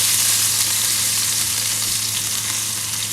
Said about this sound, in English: Give those a little stir real quick.